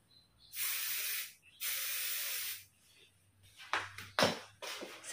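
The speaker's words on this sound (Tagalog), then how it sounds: "Yan, i-spray natin siya ng bongga-bongga." Hairspray is sprayed on curled hair in two long, close hissing bursts, followed by several shorter sputtering sprays and small handling noises.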